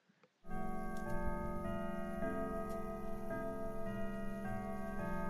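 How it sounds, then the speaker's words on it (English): Clock tower in the Cinderella Phenomenon video game chiming, a sustained, steady ringing tone of layered bell-like pitches that starts abruptly and holds throughout, with soft repeated strikes shifting the pitch every second or so. "Behind me, the clock tower begins to chime."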